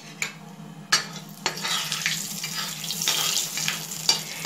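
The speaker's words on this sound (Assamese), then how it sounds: "মাছ ফ্ৰাই কৰাৰ পিছত যি তেল থাকিলে তাতে এয়া কেইটামান মিঠি গুটি দি দিছোঁ।" Fenugreek seeds sizzle and crackle in leftover oil from frying fish, with a steady frying hiss broken by a few sharp stirring scrapes against the pan, up close with no talk.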